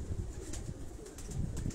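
Pigeons cooing in a rooftop loft in Karachi, soft low repeated coos from several birds, faint and close amid a breezy outdoor hum, with no one talking.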